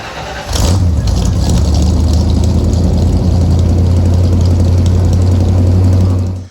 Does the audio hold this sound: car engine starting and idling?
yes